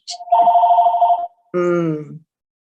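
A telephone rings in two clear electronic bursts: a long steady tone, a short pause, then a second buzzing ring, loud and close with no talk over it.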